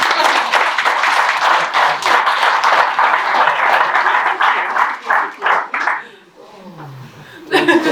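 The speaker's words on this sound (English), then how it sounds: "I think you both deserve a round of applause" Wedding guests clap for the ring bearers in a steady burst of applause mixed with chuckles and laughter, fading out toward the end before a brief voice returns.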